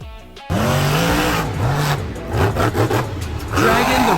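The Dragon monster truck at a live show: its engine revs repeatedly in rising and falling swells, loud and close, after a sudden start.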